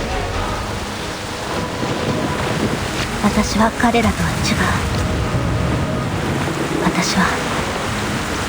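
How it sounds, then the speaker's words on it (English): A storm roars with wind and surging water in the game Reverse: 1999, loud, dense rumbling with a few sharper bursts, while a voice speaks over it. "The storm is here."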